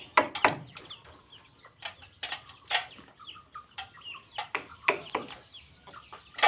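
Chickens cluck and peck while being scattered rice, with repeated short sharp calls and light scratching nearby in a quiet yard.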